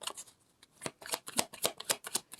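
A tarot deck shuffled by hand, a quick run of crisp riffling card snaps in an irregular rhythm, close and fairly quiet, with no talk.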